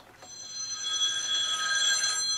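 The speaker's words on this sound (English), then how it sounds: "Hang on, got a phone call." Telephone bell ringing in a workshop, a bright metallic trill sustained and growing louder over about two seconds, alone.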